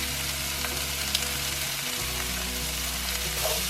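Corned beef fries in a pan with a loud, continuous sizzle over a low steady hum, the crackle staying close and even with only faint shifts throughout.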